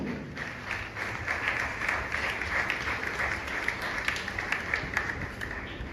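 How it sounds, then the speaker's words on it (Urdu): Congregation applauding loudly at a church service, a dense sustained wash of many hands clapping steadily throughout with no talk over it. "آئیں زوردار تالیاں بجائیں۔"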